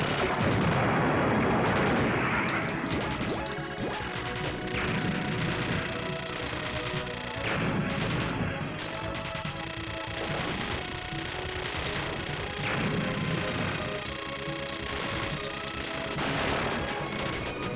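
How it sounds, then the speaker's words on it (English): Yellow bombs in a PS1 shoot-'em-up launching a volley of missiles, dense continuous booming explosions and rumbling blasts layered over game music, loud and unbroken throughout. "The yellow bombs are like a volley of missiles, which I think goes out wider than the normal bomb"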